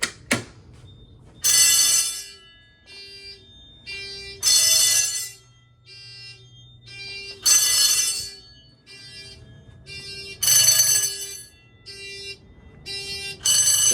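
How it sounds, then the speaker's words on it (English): A Simplex 4100ES fire alarm system in a basement, set off from a pull station, blares loud horn blasts in an uneven repeating pattern, with a steady tone pulsing between them. "I will be demonstrating first and second stage of this pull station"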